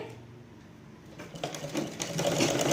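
A sewing machine stitches a blouse seam, starting with a quiet hum and then running in a fast, rhythmic mechanical whir that grows louder toward the end, close by and alone.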